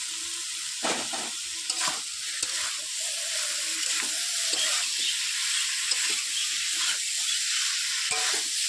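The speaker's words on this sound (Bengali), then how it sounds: "মশলাটা কষানো হয়ে গেছে এবার আমি হলুদ ডাটা একটু দিয়ে দেবো" Elephant foot yam stalks fry in a spice masala with a bright, steady sizzle, while repeated stirring scrapes come through at close range and no one speaks.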